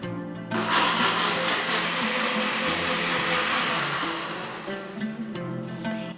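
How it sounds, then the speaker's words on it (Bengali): A mixer grinder loudly grinds spices and two green chillies with a little water into a smooth paste for a fish curry, its motor whirring steadily for about four seconds before winding down, with no talk. "সামান্য একটু জল দিয়ে এটাকে একদম মোলায়েম করে বেটে নেব।"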